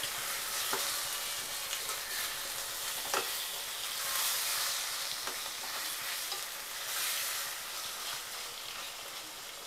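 Chicken fry stirred in a hot pan, with a steady oil sizzle underneath and a few sharp spoon scrapes and taps against the metal, fairly close and with no talking.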